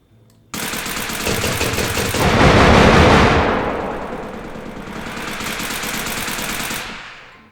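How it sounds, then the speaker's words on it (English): Rifle fire and grenade explosions from an Unreal Engine 4 game: a dense burst of rapid gunshots, then a louder, booming blast that swells and fades into more steady automatic fire, ending in a quick decay. "this time I'm going to fire the rifle and launch the grenades"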